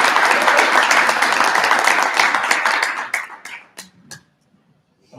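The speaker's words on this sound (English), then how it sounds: "Let's give Camp V another round of applause." Audience at a Rotary Club of Tyler meeting applauds Camp V with dense, steady clapping for about three seconds, then thins to a few scattered claps before falling silent.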